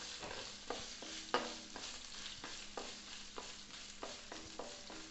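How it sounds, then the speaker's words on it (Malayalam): Ginger and green chilies fry in a pan for lemon rice, a faint steady sizzle broken by sharp scraping stirs of a spoon at an uneven rhythm. "ഇഞ്ചിയും പച്ചമുളകിൻ്റെയും ഒരു മൂപ്പും ഉണ്ടാകട്ടെ."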